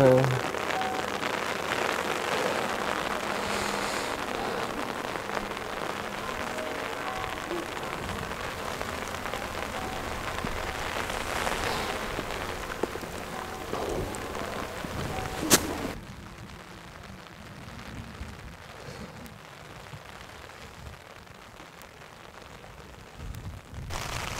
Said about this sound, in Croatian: Kiša.